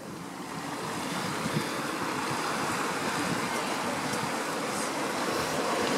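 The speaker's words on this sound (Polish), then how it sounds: "Chyba większe fale są." Winter sea waves surge and wash over rocks along a beach in a steady, loud, broadband roar, with gusts of wind buffeting the microphone throughout.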